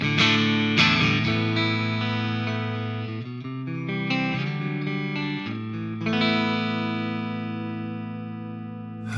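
Electric guitar played through an STL Tones AmpHub AC30 top boost amp preset, loud and sustained chords and single notes ringing out with a slightly driven, chimey character, no talking.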